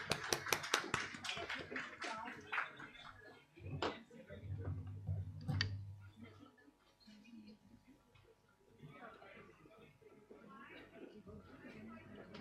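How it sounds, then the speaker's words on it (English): Applause for graduating students at a convocation ceremony, beginning with a brisk burst of close, sharp claps that thin out into scattered clapping, followed by a low hum and indistinct talk in the hall. "Can we please graduate all our students with a round of applause?"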